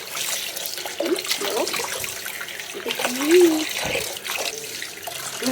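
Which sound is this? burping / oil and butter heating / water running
water running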